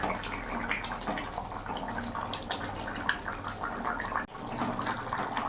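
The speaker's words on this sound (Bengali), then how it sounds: "মাছ দিয়ে 2 মিনিট এখন ফুটিয়ে নেব" Rohu fish curry with taro simmers in a pot, producing a steady, close, dense bubbling and hissing that runs without pause apart from a brief dip near the end.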